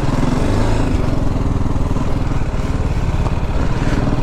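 A 2023 TVS Apache RTR 310 motorcycle accelerates hard on a road, its engine note loud, steady and close throughout, with a continuous low throbbing drone and no pauses.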